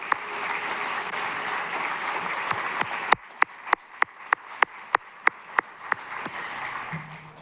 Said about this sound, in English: A big round of applause for our recipients.